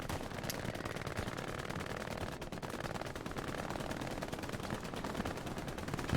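Sustained automatic gunfire from a large-scale 18 versus 18 multiplayer battle game, with a machine gun and other weapons rattling continuously and densely at steady volume throughout, with no talk.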